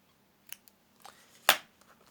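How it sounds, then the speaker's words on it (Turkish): Scissors snip through crochet yarn in a few short, crisp cuts, one louder sharp snip standing out among fainter clicks in a quiet room. "Burada ipimi kesiyorum."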